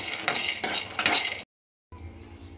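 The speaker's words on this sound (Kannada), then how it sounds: "ಶೇಂಗಾ ಹುರ್ಕೋಬೇಕು ಅದಕ್ಕೆ ಬಾಣಲಿಗೆ ಇಟ್ಟಿದ್ದೀನಿ ಗ್ಯಾಸ್ ಆನ್ ಮಾಡಿದ್ದೀನಿ" Peanuts dry-roasting in a pan on a gas stove, a metal spoon scraping and clinking against the pan in bursts for about a second and a half before cutting out, then a low background hum.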